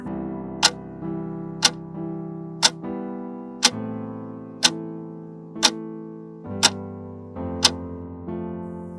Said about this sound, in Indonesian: hanya bunyi jam dinding yang berdetak pelan saja